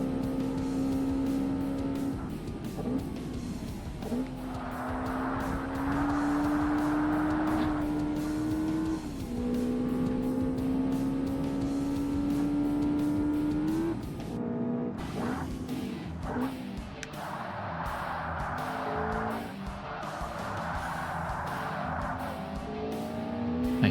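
Race cars in Forza Motorsport on the Xbox howl through repeated gear shifts with rising engine pitch, rasping bursts and tire squeal, steady and fairly close throughout.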